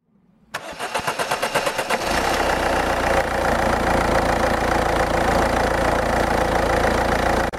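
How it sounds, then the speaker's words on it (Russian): A car engine cranks with rapid rhythmic starter pulses for about two seconds, then catches and settles into a steady, loud idle. "Теперь запустите двигатель."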